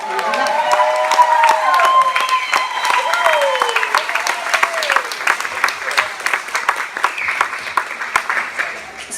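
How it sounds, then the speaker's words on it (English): An audience at a speaking event applauds warmly with sustained clapping, while a few voices and cheers rise over it early on, then the clapping carries on alone. "where I thought we might start is the hugest round of applause for Sonia G for pulling this whole thing tog"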